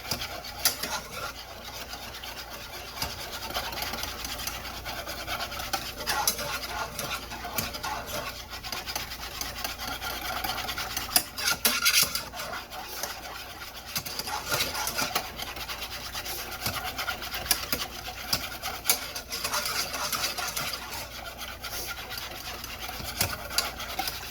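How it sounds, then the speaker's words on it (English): Gravy being whisked from pan drippings: a metal whisk scrapes and rattles continuously against the pan for about 24 seconds, close and steady with small bursts of louder scraping, and no talking. "And just whisk, whisk, whisk."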